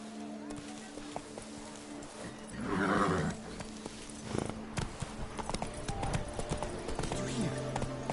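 Hooves of Roach, the horse in The Witcher 3: Blood and Wine, clip-clopping on the ground, with a whinny and music or ambient game sound under a voice.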